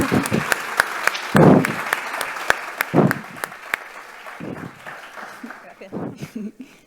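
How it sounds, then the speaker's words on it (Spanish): Workshop audience applauding at an educational session, with sharp scattered claps standing out amid thinner clapping and bursts of nearby talk, fading toward the end. "Bueno, un aplauso."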